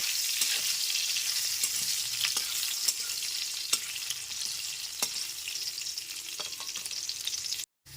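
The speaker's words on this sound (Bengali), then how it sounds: "গ্যাসের ফ্লেমটা লো টু মিডিয়ামে রেখে আলুটা খুব ভালো মতো ভেজে নেব" Diced potatoes frying in a pan over a low-to-medium gas flame, a steady close sizzle with occasional sharp crackles and pops, heard alone without talk.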